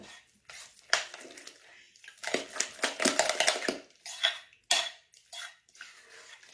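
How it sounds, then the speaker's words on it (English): Shredded mozzarella is stirred in a bowl for a tomato pie filling, with close, irregular clinks and scrapes of a utensil against the bowl in short bursts separated by pauses. "so mix our mozzarella cheese in there real good"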